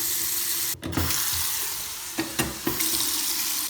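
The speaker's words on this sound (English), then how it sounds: "turn on all the faucets and additional faucets throughout your house" A house faucet runs in a steady rush while a reverse osmosis system is purged of air. The flow is broken by several brief sputtering bursts of trapped air, and there is no talk.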